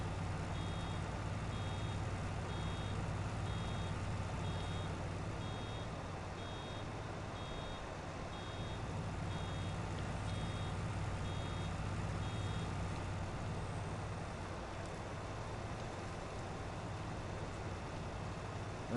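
A vehicle in Farming Simulator 19 sounds a reversing alarm, with evenly spaced electronic beeps repeating over a steady low engine drone for most of the stretch before fading out.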